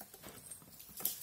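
A Barbie Dreamtopia toy unicorn sounds a quick, faint clip-clop of hooves when its mane is brushed, a short patter of light taps with a brighter burst near the end.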